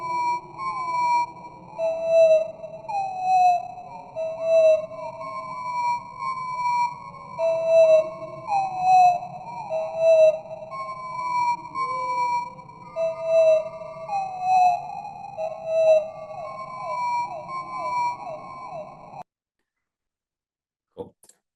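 A small bird's song, slowed down, plays as a sequence of long, sweeping, whistled notes. It repeats steadily for about nineteen seconds over a faint hum, then stops abruptly.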